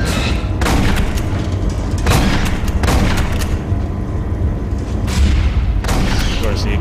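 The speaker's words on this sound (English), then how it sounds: "The explosion that hits nothing." Repeated booming explosions in the video game Aliens: Colonial Marines, several loud broadband blasts recurring every second or two over continuous battle noise, with voices talking faintly underneath.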